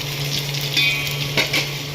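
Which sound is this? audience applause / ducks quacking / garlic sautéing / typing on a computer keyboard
garlic sautéing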